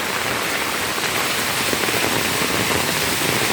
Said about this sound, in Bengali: এখানে আমাদের আবার চাল বেয়ে বৃষ্টি পড়ছে